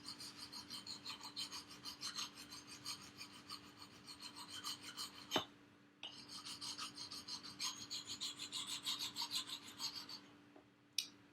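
Steady abrasive rasping as the coating is ground off a tomahawk axe, continuous scraping strokes with a brief pause midway before resuming, close and fairly quiet, no talking.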